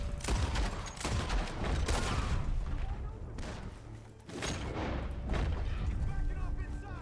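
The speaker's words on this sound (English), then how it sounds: "The gunshots are coming from that barn!" Heavy gunfire rings out from a barn in Red Dead Redemption 2: rapid bursts of loud, booming shots in two clusters separated by a short lull, with game voices talking in between.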